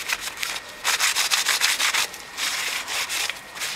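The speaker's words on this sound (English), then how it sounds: "once you've got all of the excess grout wiped away" A sponge wipes excess grout off a tiled mosaic in repeated close scrubbing strokes, a bright gritty rubbing that swells and fades in quick bursts, with no voices.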